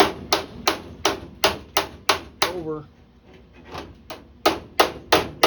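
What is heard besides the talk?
bodywork hammers tapping Jeep CJ2A body panel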